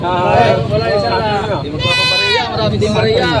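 Goats for sale at a livestock market bleat loudly and close, one sharp, wavering cry standing out midway, while people talk nearby throughout.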